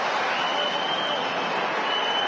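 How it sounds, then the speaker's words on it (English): Steady, dense crowd noise from home fans at a friendly football match between Red Bull Salzburg and Barcelona in Austria, a sustained roar filling the stadium without a break. "The home fans now booing the possession of Barça"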